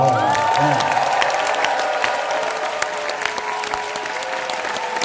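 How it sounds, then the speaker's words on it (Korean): A seminar audience applauds steadily with some cheering mixed in, loud at first then easing slightly, with a faint voice underneath. "큰 박수로 한번 여러분 함성 한번 쳐주세요."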